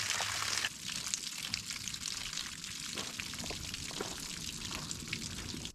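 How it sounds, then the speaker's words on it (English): Water gushing steadily from the open relief valve of an RV water heater, a continuous hissing splash that starts louder and settles into a constant rushing pour, close and alone. "Once I open this relief valve, now it comes out a lot quicker."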